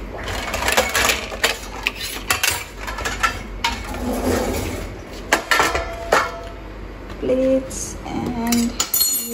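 Plates and cutlery being taken out in a kitchen: repeated clinks and clatters of metal and crockery against a steady background hum, with a few brighter ringing knocks near the end.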